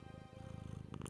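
Ella the cat purring close up, a steady rhythmic rumbling purr with a faint higher rustle near the end.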